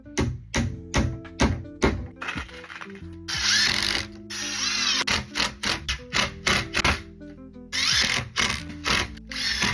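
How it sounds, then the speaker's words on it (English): A power drill drilling screw holes while building a wall-mounted tufting frame ratchets and whirs in repeated short bursts, with a couple of longer high-pitched drilling runs, close and loud, stopping and starting irregularly. "Make sure you drill holes where you want your screws to go."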